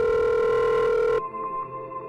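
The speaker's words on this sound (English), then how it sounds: "The phone rings." A telephone rings once with a loud, steady electronic tone that cuts off abruptly partway through, leaving a faint lingering hum.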